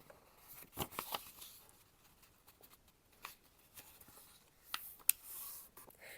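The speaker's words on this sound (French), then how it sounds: "vous pliez donc 3 fois le papier vers vous" Soft paper rustling and crinkling, with a few sharper creases and crisp snaps standing out in a quiet room, no voices.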